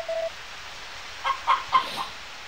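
Chicken clucking from the video game Harvest Moon: Back to Nature, a few short, clear electronic clucks spaced apart, with a brief chirp at the start and no voices.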